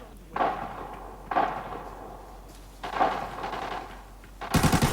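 Gunfire in the video game Arena Breakout, loud bursts of automatic shots in several separate volleys, the last one sharper and closer.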